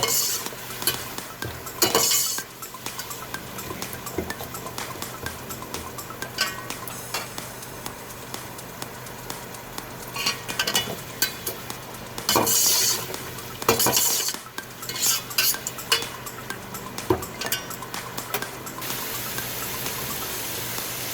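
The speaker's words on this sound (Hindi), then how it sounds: "और इसी स्टेज पे मैं ये अदरक लहसुन का पेस्ट डाल दूँ। इसको हम अच्छी तरह से भूनेंगे।" Ginger garlic paste frying and being stirred in a pan for matar pulao, with a steady sizzle under repeated scraping and clinking of a spoon against the cookware.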